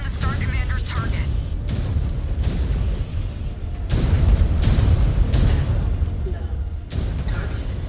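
Missiles explode in Mechwarrior 5: Clans as a series of heavy, booming blasts, loud and close, recurring every second or so over a constant rumbling din, with voices talking in the mix.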